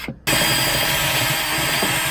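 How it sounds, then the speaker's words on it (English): A power drill bores through an old engine, starting abruptly after a brief pause and then whirring loudly and steadily at close range. "I could drill through there and put a bracket."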